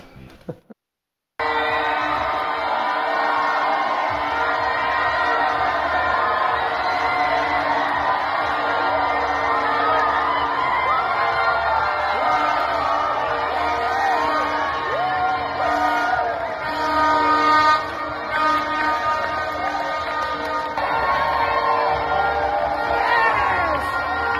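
A large crowd of fans cheers and whoops loudly and continuously at a hotel, with shouts and yells rising over a dense, steady roar that starts after a brief quiet moment and carries on throughout.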